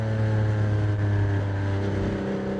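A Porsche 987 Boxster engine pulls hard in second gear on an early-morning drive, a steady, loud flat-six drone heard from the cabin, alone with no talk.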